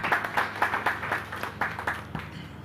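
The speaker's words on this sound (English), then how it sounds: "another round of applause" Workshop attendees clap in a short round of applause, distinct individual claps in a loose rhythm from a modest crowd, thinning out toward the end.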